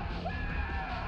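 Enemies screaming in Future Cop L.A.P.D., a brief strained yelling cry over a low rumbling game background, short and moderately loud.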